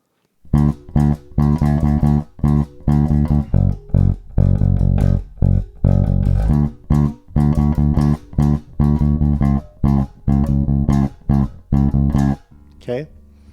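Bass guitar playing the first half of a song outro from a tutorial: deep, close, plucked notes in short rhythmic bursts, stopping and starting in repeated groups, with nothing else over them.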